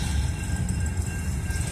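Illinois Central grain train rolling slowly through a track switch in Effingham, Illinois, a steady low rumble of wagons close by with no clear wheel clicks, no voices.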